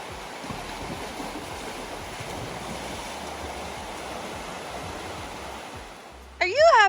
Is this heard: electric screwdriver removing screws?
no